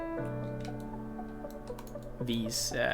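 Computer keyboard keys pressed while building a Norwegian-style ship tunnel in a construction game, scattered light clicks sitting under a steady tonal music bed.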